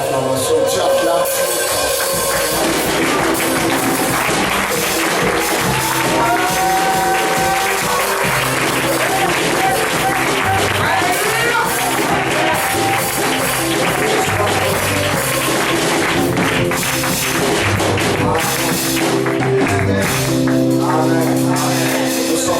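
A church congregation claps and cheers during worship, loud continuous acclamation over music and voices, sustained for about twenty seconds.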